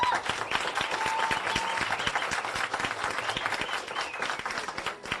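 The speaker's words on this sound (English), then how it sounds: "Right, a round of applause." An audience at a spelling bee claps hard, a dense, sustained wash of applause with many sharp hand claps, close and steady, then easing slightly toward the end.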